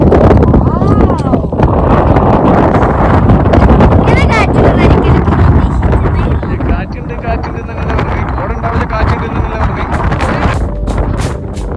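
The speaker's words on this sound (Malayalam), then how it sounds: "കാറ്റാണ് ഗൈസ് കാറ്റ് ഇവിടുത്തെ കാറ്റാണ് കാറ്റ്" Strong wind on a hilltop at Illikkal Kallu buffets the microphone with a loud, constant rumble that eases slightly midway, while people talk throughout.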